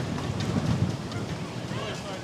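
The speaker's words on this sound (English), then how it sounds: "It is crazy windy out there, and the gusts do come heavy." Heavy wind gusts roar across the microphone at an outdoor volleyball quarterfinal. The noise is loud and steady and keeps up under faint voices.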